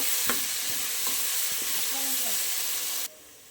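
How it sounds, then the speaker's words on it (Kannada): A paste of mint, coriander, ginger, garlic and spices fries in oil for chicken biryani, giving a steady sizzle with a few clicks and scrapes of stirring before it cuts off abruptly. "ಇದನ್ನು ಒಂದು ಎರಡು ನಿಮಿಷ ಹಸಿ ವಾಸನೆ ಹೋಗೋ ತನಕ ಚೆನ್ನಾಗಿ ಫ್ರೈ ಮಾಡ್ಕೋಬೇಕು"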